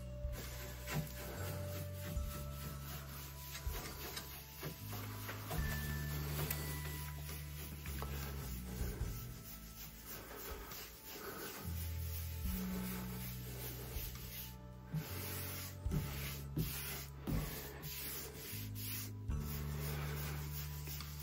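A pad rubbing varnish onto wood, a steady soft rhythmic swishing that continues for the whole stretch with faint ticking underneath, close and quiet, no voices.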